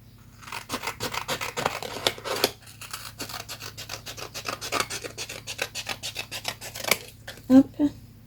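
Scissors cut through paper in a steady series of sharp, rasping snips, close and continuous for several seconds, with a few louder clicks near the end.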